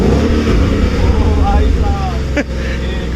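A Ford Mustang race car engine drones and revs loudly at close range with a low, throbbing tone, briefly dipping near the end, while voices talk over it.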